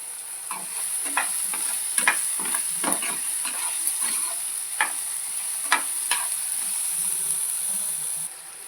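Onion and tomato sautéing in a pan give a soft continuous sizzle broken by frequent light clicks of stirring, with a thin high insect-like whine running throughout.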